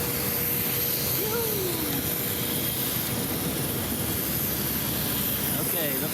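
A roaring airplane engine before a flight to the Kei Islands in Indonesia: a steady, loud broadband rumble fills the whole stretch, with voices talking over it.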